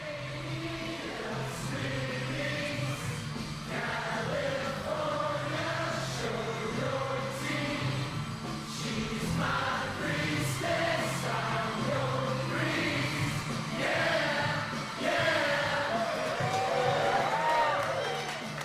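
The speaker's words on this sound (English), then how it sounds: "played the track over and got everyone to sing and chant over the top as if it was being playing live." A crowd of people sings and chants together as backing vocals over a song, a full, steady wash of massed voices with sung lines throughout.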